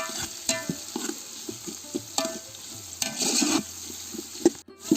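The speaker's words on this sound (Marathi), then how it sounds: "हे आपण चांगलं परतून घेऊया" Onion and tomato sautéing in a pan for a 1.5 kg chicken dum biryani, with a steady close sizzle broken by repeated scraping stirs of a spoon, and no talking.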